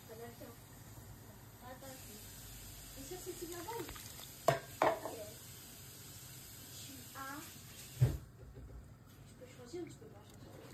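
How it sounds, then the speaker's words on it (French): A Cameroonian peanut sauce with meat cooks in a pot, giving a faint, steady hiss of simmering with a few sharp clinks from a utensil. Someone talks now and then. "on va faire cuire correctement notre arachide."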